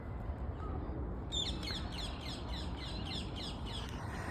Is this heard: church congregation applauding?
no